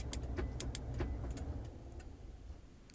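A Toyota Camry engine shuts down by remote start key fob, a low idling rumble fading away amid a few light clicks and jingles, close by with no talk.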